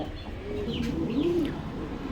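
Kashmiri Bombay pigeons give a few soft, low coos over a faint background hum, close by and brief.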